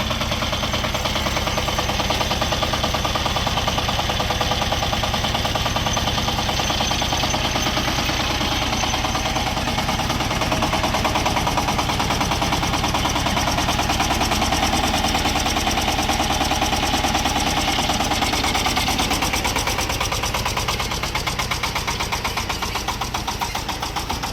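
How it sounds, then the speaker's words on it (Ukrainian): A Shifeng 350 single-cylinder mini tractor engine runs steadily and loudly throughout, with a constant rapid chugging knock and no pauses. "тракторець одноциліндровий, задньопривідний, з блокуванням диференціалу"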